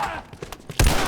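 The Last of Us headshot, a single sharp gunshot near the end of a brief moment of quiet game ambience, close and loud.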